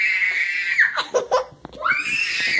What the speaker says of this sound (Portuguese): Ela tá gritando.